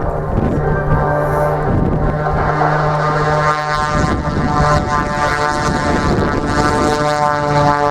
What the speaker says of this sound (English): the one-of-a-kind aircraft known as the Oracle Challenger 3